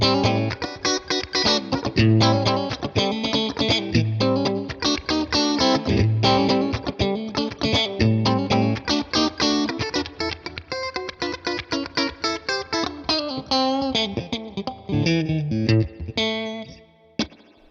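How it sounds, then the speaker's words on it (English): An electric guitar plays choppy, rhythmic chords and riffs through a Tone King Imperial tube amp with a splashy spring reverb tail, loud and close, fading out at the end. "Spring reverb, sounds so good."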